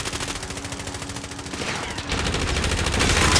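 Rapid gunfire in Call of Duty Warzone, a continuous automatic rattle that grows denser and louder toward the end, with faint talk underneath.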